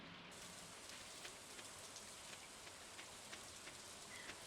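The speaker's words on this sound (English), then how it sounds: "Especially since it's raining." Steady rain in the farming video game Stardew Valley, a soft, even hiss of falling drops with faint pattering ticks, quiet and continuous with no voices.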